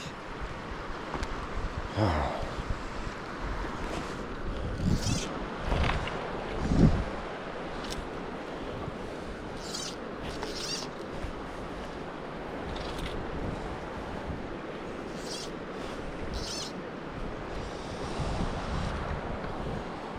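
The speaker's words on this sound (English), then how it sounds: "there's a bit of wind blowing upstream" Steady wind blows along a riverbank during fly fishing at Skresanden, a broad rushing hiss with gusty swells and occasional louder buffets, no one speaking.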